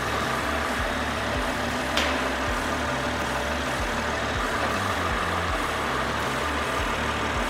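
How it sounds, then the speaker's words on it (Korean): A BMW X6 xDrive40i M Sport engine idles steadily at close range, a low, even rumble with a regular pulsing rhythm and no talking. "엔진 소리 일정하고 좋습니다"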